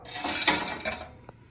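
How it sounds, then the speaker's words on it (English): A brief rattling clatter of small gravel tumbling inside the hollow metal housing of a Blue Streak crane arcade machine, dying away after a second with one last faint click. "That noise is a little bit of gravel."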